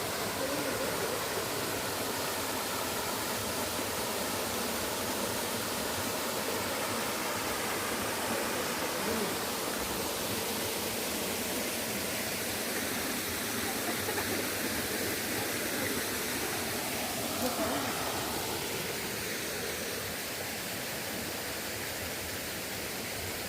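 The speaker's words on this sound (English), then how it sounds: "So I think we've seen around 27 waterfalls." Waterfalls at Mil Cascadas near Taxco, Guerrero, Mexico, a continuous broad rushing roar of falling water, steady and fairly loud throughout with no talk.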